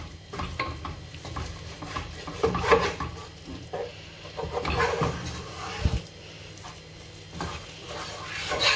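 Curry masala sautéing in hot oil in a pan for a Kerala chicken varutharacha curry, a steady close sizzle with repeated stirring scrapes and occasional utensil knocks against the pan throughout.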